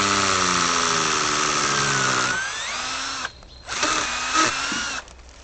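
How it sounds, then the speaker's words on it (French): Power drill boring a clean hole about 3 cm deep through birch bark to tap the sap, a loud steady whine that shifts pitch as it bites and briefly drops out near the end, up close. "Et je fais un trou le plus propre possible."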